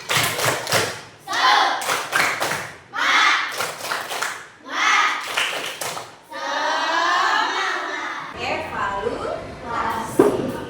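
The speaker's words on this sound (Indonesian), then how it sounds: "Tepuk semangat." A classroom of children performs a rhythmic spirit clap, with bursts of hand claps and thumps in a patterned sequence alongside group chanting voices, followed by a longer run of claps near the end.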